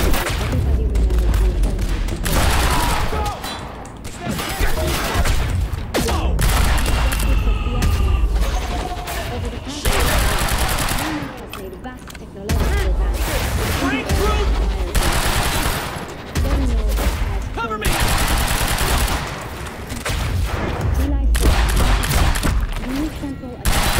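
Gunfire in the video game Quantum Break, loud repeated bursts of automatic fire and booming impacts in a dense, continuous firefight.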